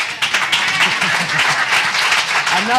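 Audience applause at a Sunday church celebration, dense clapping at moderate distance, steady for a few seconds with a low voice murmuring beneath.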